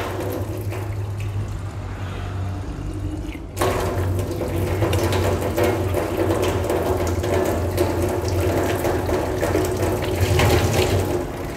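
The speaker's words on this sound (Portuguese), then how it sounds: "Vamos proceder ao primeiro enxágue." Water runs steadily while a water sampling bottle gets its first rinse, a continuous splashing rush that grows louder and fuller partway through, close and without talking.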